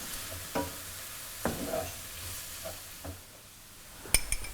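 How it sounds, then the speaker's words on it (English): Tomato puree being stirred into a sizzling prawn curry base, a South Indian dish: scattered spoon scrapes and soft stirring strokes over a quiet, steady sizzle, ending with a sharp clink of a utensil against the pan. "And I'm adding the tomato puree. And just mix them all together."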